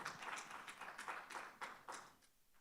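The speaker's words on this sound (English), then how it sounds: "A round of applause for Aaron." A small audience at a youth ambassadors live stream gives a speaker a quiet, sparse round of applause, a few distinct clusters of claps that fade toward the end.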